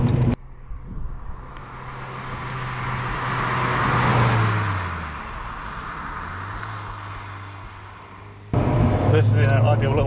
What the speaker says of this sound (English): This is an ideal little car for these types of lanes.